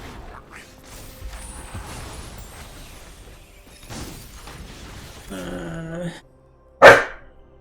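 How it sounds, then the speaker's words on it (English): A pet dog gives a single sharp bark near the end, loud and close, following a stretch of quiet background sounds with no talking over it. "I gotta have to take my dog out in a bit."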